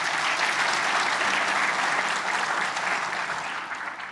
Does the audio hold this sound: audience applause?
yes